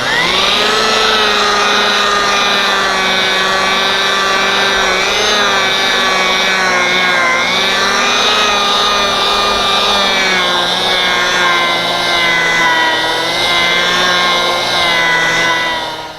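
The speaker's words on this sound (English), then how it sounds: "I'm using a 5-inch right angle polisher, and I've got it at very low speed so that it doesn't throw the compound." A 5-inch right angle polisher runs at very low speed while buffing rubbing compound, giving a loud, steady motor whine with a sustained, slightly wavering pitch that continues alone without speech until it winds down at the end.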